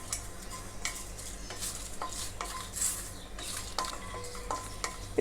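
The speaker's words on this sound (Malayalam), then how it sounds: "ഇതിലേക്ക് നമുക്ക് ഈ മസാലകൾ ഒന്ന് ചൂടാക്കി പൊടിച്ചെടുക്കാം" Whole spices being dry-roasted in a hot kadai, with repeated scraping stirs of a spoon against the metal pan and a light crackling sizzle, close and fairly quiet, no talking.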